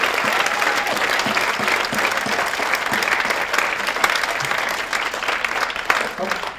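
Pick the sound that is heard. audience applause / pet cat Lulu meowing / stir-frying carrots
audience applause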